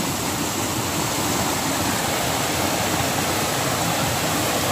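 Flowing stream water on a farm, a dense, steady rushing wash that stays constant and close throughout with no talk.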